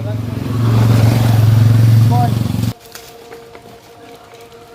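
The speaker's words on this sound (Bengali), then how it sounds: "বাইক আসছে।" A motorbike engine drones loud and close for a couple of seconds, then cuts off abruptly into quiet background noise.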